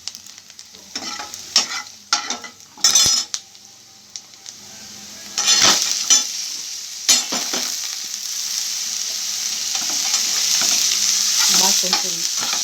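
Masala with turmeric sizzling in a pan while a spoon stirs and scrapes it, steady frying hiss under intermittent clinks and scraping strokes against the metal, close and fairly loud.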